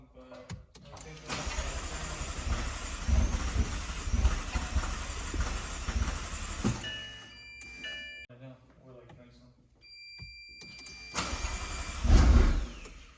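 A McLaren 650S Spider being restarted after a rebuild: the starter cranks and the engine turns over loudly for several seconds, drops away, then catches with a short loud burst near the end while people talk over it.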